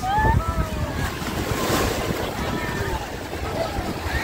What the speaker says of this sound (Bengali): ঢেউটা দেখো সব থেকে উঁচুতে গেল